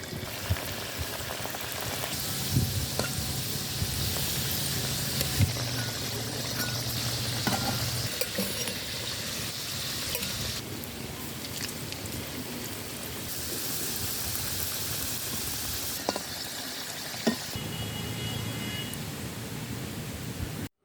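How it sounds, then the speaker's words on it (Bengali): Coconut-filled pithe fry in oil in a wok, giving a steady, dense hiss and crackle of bubbling oil that runs unbroken and fairly close, with occasional clinks of utensils and no talking. "এবার আমরা কড়াইয়ের মধ্যে তেল দিয়ে নারকেলের পুর বানানো পিঠেগুলো ভেজে নেব।"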